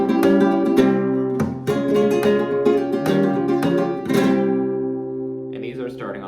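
Flamenco guitar playing bulerías phrases that start on beat one, with sharp strummed chord accents separated by ringing notes and a brief softer passage at the end, close and alone.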